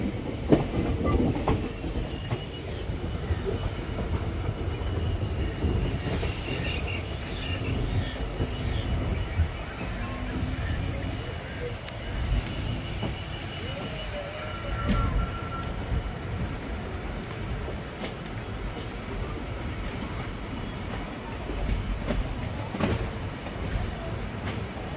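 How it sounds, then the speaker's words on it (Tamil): A Tambaram to Rameswaram passenger train rumbles steadily along the track near the Pamban bridge, with a continuous low roar and faint wheel clatter lasting throughout, close and loud, with no talk. "நமக்கு ஆப்போசிட்டில் தாம்பரம் டு ராமேஸ்வரம் ட்ரெயின் இருக்குது."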